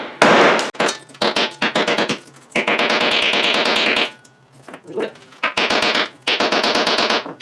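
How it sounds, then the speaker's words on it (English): A 3-pound hammer strikes gold mine ore in bursts of sharp, close thunks and clinks, with quick repeated blows separated by short pauses. "I'm going to use this little 3-pound hammer, and we're just going to break this a little bit smaller"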